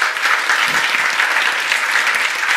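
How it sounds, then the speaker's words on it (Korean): A congregation applauds during a fasting prayer meeting at a church: dense, steady clapping from many hands, loud and continuous for a few seconds. "우리 청년부 한번 축복의 박수 이렇게 해주시겠습니다."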